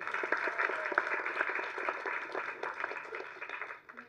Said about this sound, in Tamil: கைத்தட்டுங்க அவங்களுக்கு.